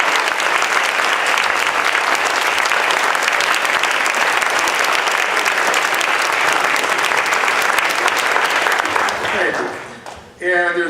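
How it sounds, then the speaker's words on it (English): Sustained applause from the audience at a Hands Across the Hills community gathering as the group stands to be recognized, loud and dense for about ten seconds before thinning out at the end with a voice briefly coming in. "let's give Hands Across the Hills a big round of applause"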